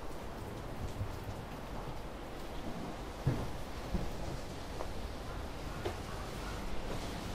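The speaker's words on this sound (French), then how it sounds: "Regardez, on est sous la pluie" Steady rain falls over an open-air fish market in Tokyo, a dense broadband hiss continuing without pause, with a few sharper close knocks and drips standing out near the middle and no talk.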